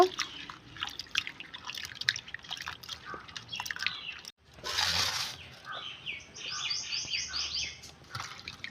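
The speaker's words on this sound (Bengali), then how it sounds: "ভালোভাবে আমগুলো ধুয়ে নেব।" Mangoes rinsed by hand in water, with faint intermittent splashes and drips, a short louder burst of water midway, and bird chirps in the background.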